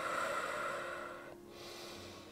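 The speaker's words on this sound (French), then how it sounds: "Trois grandes respirations." Deep, slow breathing during a yoga exercise for lower back relief, with a close, airy inhale and exhale that pauses briefly midway before resuming.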